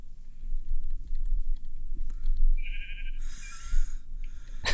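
A sheep bleats in the Minecraft video game, with short high bleats near the end over quiet keyboard clicks and faint background noise.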